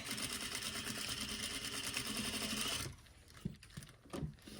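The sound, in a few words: sewing machine backstitching drapery fabric seam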